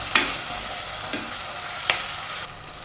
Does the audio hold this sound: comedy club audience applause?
no